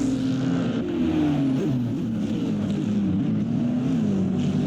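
Mustang race car in a racing video game at the Bahrain circuit, a loud droning engine whose pitch wavers and slides as it passes close by, filling the whole moment without talk.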